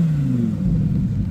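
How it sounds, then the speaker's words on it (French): A green Lamborghini Huracan Evo arriving at a car meet, passing close with a loud, low engine rumble and a slight downward pitch slide over a second or so. "On a une jolie Huracan là qui arrive"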